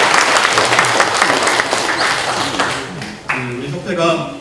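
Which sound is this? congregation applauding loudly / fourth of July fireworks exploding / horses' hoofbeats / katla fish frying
congregation applauding loudly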